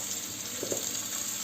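Frozen kefta meatballs of minced meat cook in a pan, giving a constant bright hiss of frying, close and steady, with a couple of soft bubbling pops and no one speaking.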